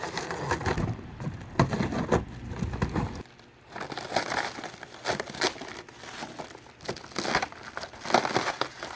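Cardboard and plastic packing material crinkle and tear loudly up close while a Fly-Pod trike box is cut open and unpacked, in irregular bursts with a brief lull partway through.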